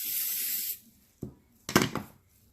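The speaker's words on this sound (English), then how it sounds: "I sprayed her with some cooking butter, just to help to release the mold." Cooking butter spray hissing from an aerosol can onto a small doll, one steady close spray lasting under a second, followed by a couple of soft handling rubs and taps.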